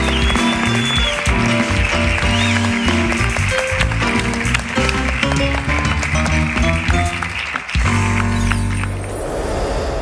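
A live show audience claps loudly and continuously, a dense steady wash of applause that fills the room and eases off briefly near the end.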